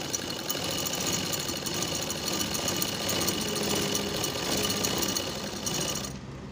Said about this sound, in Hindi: और हम डबल कपड़ा पे सिलाई मारेंगे। किनारी के सिलाई मार के देखते हैं